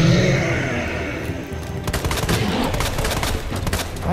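Rapid bursts of gunfire from the Resident Evil 2 video game, a dense fusillade of overlapping shots with heavy low thumps, loud and continuous over roughly four seconds with no talking.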